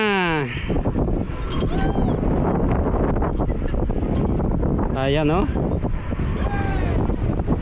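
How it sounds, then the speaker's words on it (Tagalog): Steady, loud wind rush on an amusement park ride buffets the microphone throughout while people talk and exclaim over it. "Ang lakas ng hangin sa taas."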